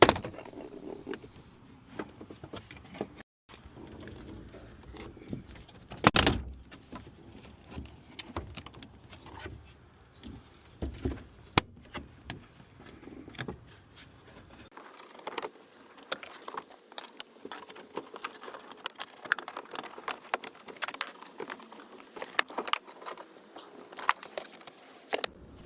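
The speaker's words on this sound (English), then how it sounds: "Next, I remove the side door trim," Side door trim clips on a Toyota Sienna are pried loose, giving a long series of scattered sharp clicks, pops and plastic rattles, close and fairly quiet with irregular rhythm.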